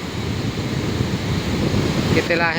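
The Progo River rushes steadily with swollen, increased water volume near the Srandakan dam construction site, a continuous loud broadband roar of flowing water mixed with some wind buffeting.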